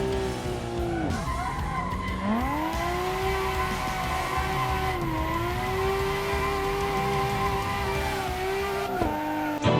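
A car drifting around a track in the racing game Assetto Corsa, with an engine note that rises and falls through revs and steady tire squeal as it slides, loud and continuous throughout.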